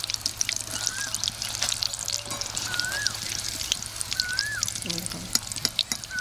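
Vegetable fritters fry in oil with a steady crackling sizzle, close and moderately loud, while faint bird chirps sound in the background.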